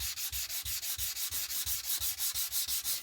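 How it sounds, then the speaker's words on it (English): Sanding block rubbed along the edge of paper in quick, even back-and-forth strokes, about five per second, a close, dry, rhythmic scratching with no talk. "I'm just going to sand right on the edge of this"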